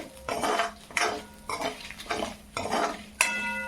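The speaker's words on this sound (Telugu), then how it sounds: "చూడండి ఏ విధంగా కలుపుతున్నానో సో అదే విధంగా" Dried red chillies being stirred into momo filling in a pan, repeated scraping and clinking strokes of a utensil against the pan in a steady rhythm with a faint sizzle underneath, close up.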